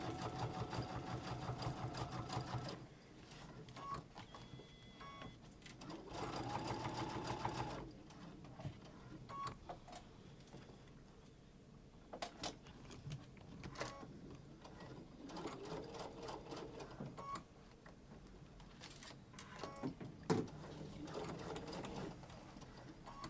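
Sewing machine stitching a messenger bag: bursts of rapid mechanical needle chatter starting and stopping several times, with quiet pauses and small handling clicks between runs, moderately close.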